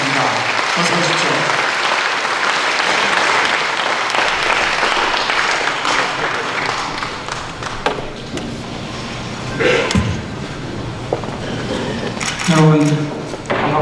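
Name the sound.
audience applause welcoming a speaker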